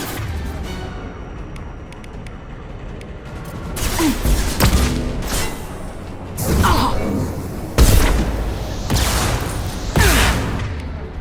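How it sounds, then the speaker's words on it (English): Flashbang grenades going off in the video game Mass Effect 2, several loud separate bangs spaced a second or two apart, each bursting sharply out of a low rumbling combat background. "Watch out, flashbangs!"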